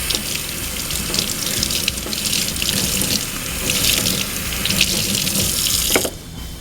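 Water runs steadily from a kitchen sink faucet as a rag is rinsed, a loud, close splashing rush that cuts off abruptly near the end.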